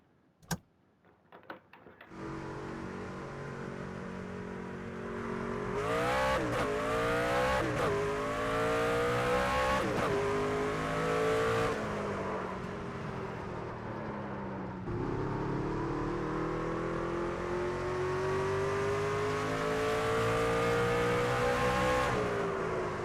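A Craftsman Truck Series racing truck laps Martinsville in the NASCAR 25 video game, a brief clatter giving way to a sustained engine roar that rises and falls through shifts, braking and acceleration, loud and alone.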